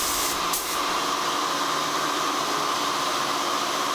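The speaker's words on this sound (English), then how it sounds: "Get that clear coat on." A spray gun hisses steadily as it lays clear coat onto Mercedes-Benz C200 car parts at night, a continuous close airy spray with a brief flutter near the start.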